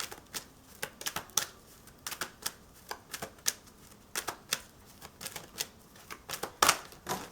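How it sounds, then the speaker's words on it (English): A tarot deck is dropped and then handled, giving a string of sharp, papery card flicks and slaps at an irregular pace, close and fairly quiet, with no voices. "I literally just dropped my whole deck."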